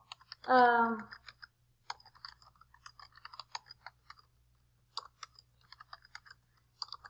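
Typing a post on a computer keyboard, sparse soft key clicks in irregular runs, with a brief voiced sound at the start.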